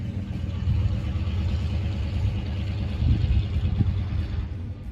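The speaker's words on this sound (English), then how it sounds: "loud truck going by" A loud truck passing nearby gives a heavy, continuous low engine rumble that swells slightly partway through, with no talking over it.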